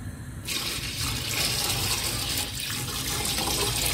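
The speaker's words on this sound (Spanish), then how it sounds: "lo que yo voy a hacer es que le voy a agregar leche ahí" Milk pours into a pot of rice for creamy rice pudding, a sudden steady liquid rush that starts abruptly and runs on evenly, close and fairly loud, with no talk.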